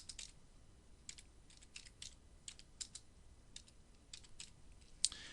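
Quiet, quick clicks of a computer keyboard as a phone number is typed, in short irregular bursts of keystrokes, close and alone.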